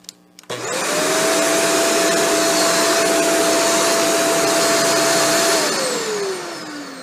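A Shark Stratos vacuum cleaner in lift-away mode switches on with a click and runs at a loud, steady whine and roar for several seconds, then begins to spin down.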